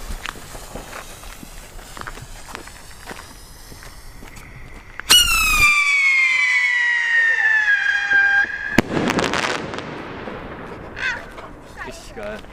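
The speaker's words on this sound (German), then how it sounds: "Die Sirenenrakete hebt ab." A Funke whistling siren rocket launches and shrieks in a loud, piercing tone that slowly falls in pitch for several seconds, then ends in a sharp bang followed by crackling; quieter outdoor rustling comes before it.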